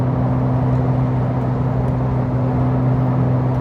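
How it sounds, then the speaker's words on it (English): Steady low engine hum and road drone from inside a moving Jeep, constant and fairly loud with no talking. "while I'm driving in my Jeep"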